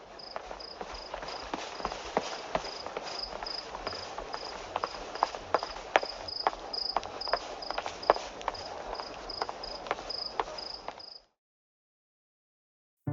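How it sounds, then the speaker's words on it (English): Crickets chirp in a steady, rapid, high-pitched pulse for about eleven seconds, fairly loud and continuous, then stop abruptly into silence. "Cricket!"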